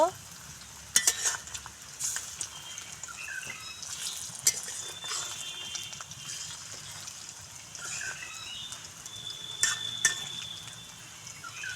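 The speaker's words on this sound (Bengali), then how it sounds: "আস্তে আস্তে ভেজে নেব আমি পকোড়াগুলো।" Cauliflower pakoras fry in hot oil with a steady, soft sizzle, broken by occasional stirring scrapes and metallic utensil clinks against the pan.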